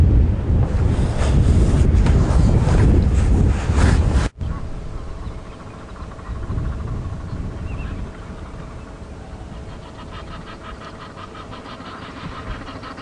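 Blustery, gusting wind roars across the microphone in the open bush of Kruger National Park, heavy and buffeting at first, then easing to a lighter, steady rush.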